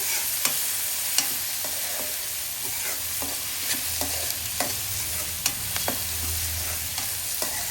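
Chopped cabbage and onions fry in a pan, a continuous close sizzle broken by regular sharp taps and scrapes of a spatula being stirred through the vegetables.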